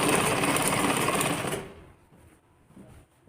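A close sewing machine whirs loudly along a kurti hip seam for about a second and a half, then stops, leaving quieter fabric handling and faint rustles.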